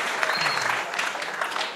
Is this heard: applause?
yes